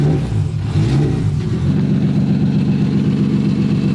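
Nissan S14 drift car engine revving hard and steady at an empty drift track, a loud continuous rasp that climbs and holds at high revs close by.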